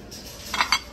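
Sushi dishes handled in a thrift store give two quick, light clinks of ceramic, faint and close against a quiet room.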